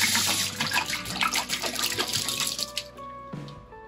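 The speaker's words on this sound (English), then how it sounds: "Dump the StarSan back in with the hot water" Hot water mixed with StarSan sanitizer pours and splashes steadily into a container while cleaning beer bottles for home brewing, a dense continuous gush that thins out toward the end with a few lighter trickles.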